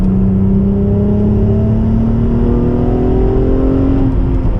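An Acura TL SH-AWD engine with Borla Pro XS exhausts revving up steadily under load, its exhaust giving a loud, raspy drone that climbs slowly in pitch, close and continuous.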